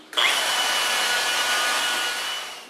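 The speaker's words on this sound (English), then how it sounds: "Now I'm coming back with a swirl mark remover, softer pad, cleaning out all the swirl marks." Power polisher with a softer pad buffing swirl marks out of car paint, a steady high-pitched whirring hiss that starts abruptly and holds close and loud, with no voices.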